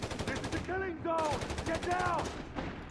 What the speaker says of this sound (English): We got another machine gun here for Momo though.